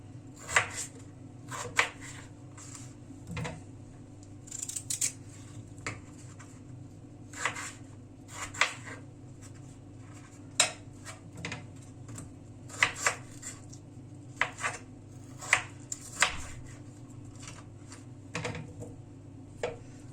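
Sharp knife chops through potatoes on a board, irregular and fairly close, with a low steady hum underneath and no talking.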